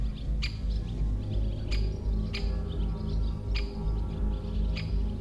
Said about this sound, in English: A bird no bigger than a fist, riding for free on a gazelle's back in exchange for a meal of ticks